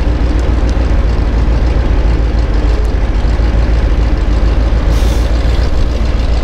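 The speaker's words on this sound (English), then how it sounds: "And the truck is set to take off." A fire truck's diesel engine rumbles loud and close as it pulls away, with a brief sharp hiss of air brakes releasing partway through.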